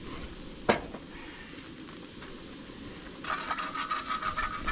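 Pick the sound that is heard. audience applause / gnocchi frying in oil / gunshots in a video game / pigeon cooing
gnocchi frying in oil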